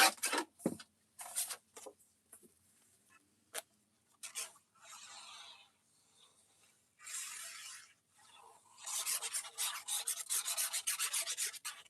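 Scrapbook paper being trimmed down to a 4 3/4 inch square, with repeated close rasping cutting strokes, some short and isolated, then a longer continuous run of quick scraping strokes.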